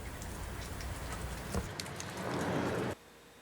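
Moderate rain falls outdoors as a dense, even hiss of drops that swells slightly before cutting off abruptly near the end, with no voices.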